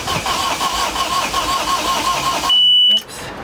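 A sailboat's troubled engine cranks for a few seconds with a rough, uneven churn, then cuts out abruptly. A short electronic beep follows in the sudden quiet.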